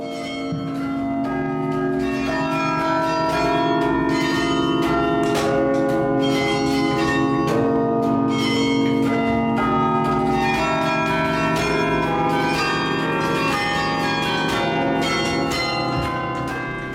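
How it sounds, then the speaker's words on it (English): Bronze carillon bells in a library tower built in 1928 ring continuously, many overlapping tones resonating with a long reverberant sustain, loud and steady with no voices. "They thought it was a good idea to place a carillon in the tower of the newly constructed library."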